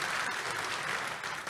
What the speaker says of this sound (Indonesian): kasih tepuk tangan dulu yuk buat Tuhan Yesus